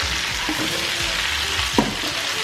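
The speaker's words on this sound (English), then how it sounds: "So allow your potatoes to cook for a while and then start flipping them over once they start cooking." Potatoes and onions fry in a cast iron skillet with a steady, close hiss and crackle, broken by a few soft scrapes and one brief clatter as the food is moved.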